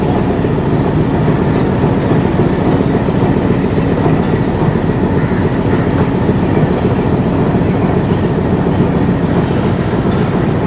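The Pakistan Railways Lasani Express, hauled by locomotive PH820 on the Sialkot to Lahore run, rumbles steadily from inside, a constant low roar with faint rhythmic clatter and no talking.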